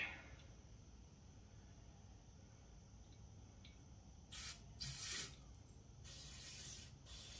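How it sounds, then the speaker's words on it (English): A few short bursts of aerosol spray hiss in a quiet room, the longest near the end, with no talking. "Wear safety glasses when you spray this stuff, guys."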